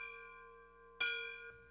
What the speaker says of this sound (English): And as the bell rang one last time,